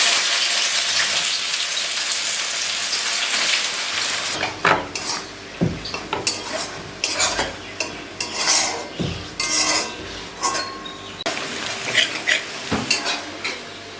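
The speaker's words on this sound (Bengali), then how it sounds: "এতক্ষণ ভাগ্নে পেঁয়াজগুলো ভাজলো" Onions fry in hot oil with a constant sizzle, broken by repeated scraping and clinking of a spoon stirring them around a metal pan, close by and fairly loud.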